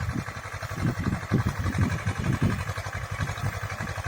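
A T-30-69 tractor engine runs steadily while pulling a single-row Bomet elevator potato digger in the field. Its low, pulsing chug continues throughout with no talk.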